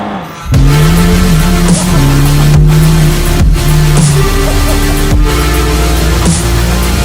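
Mercedes-AMG Black Series accelerating hard on the Goodwood Festival of Speed hill climb: a loud, close engine roar climbs in pitch, drops sharply at three gear shifts, and pulls again each time.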